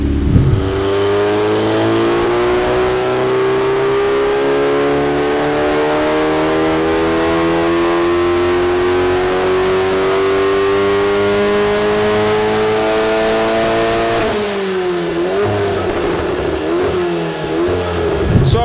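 A Cupra 300 engine fitted with an L450 turbocharger revs on a dyno in a warm test cell, its tone climbing steadily for a long pull before the throttle drops and the note falls and wobbles.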